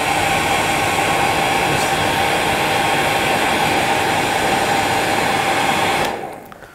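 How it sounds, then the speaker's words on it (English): A hair dryer blows steadily and loud through a fly-tying blood worm pattern, a constant rushing roar that cuts off abruptly near the end. "I blow the hairdryer through it just to open the legs out a wee bit better"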